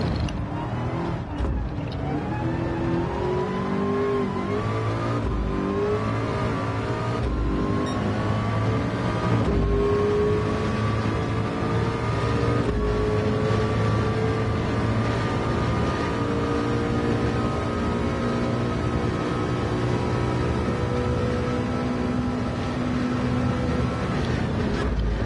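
Race car engine droning on the Mulsanne Straight and into the chicanes at Le Mans in a VR racing game, a continuous steady engine tone with gradual pitch shifts under faint mechanical creaks, no speech.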